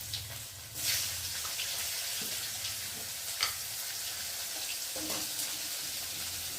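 Ginger paste and chopped tomato fry in a pan with a close, moderate sizzle. Occasional stirring scrapes and a couple of splashy bursts break through, and no one speaks.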